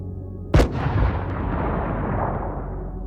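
A single artillery-like launch of a missile carrying a memory-erasing agent booms once, loud and close, then a long rumbling tail fades under a steady low background.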